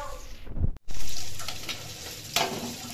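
Green mango dal cooking in a pan, giving a steady close frying sizzle with stirring noises and a brief dropout partway through.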